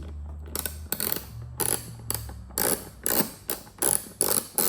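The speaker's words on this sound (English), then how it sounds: "I may have to get my smaller ratchet just to make sure that" A small ratchet works T30 Torx bits loose on a C8 Z06 Corvette, giving a run of rapid, close-up clicking bursts separated by short pauses, with no talking.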